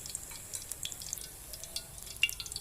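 Batter-coated shrimp frying in a pan over low heat, giving a quiet, steady crackle with scattered tiny pops and no voices.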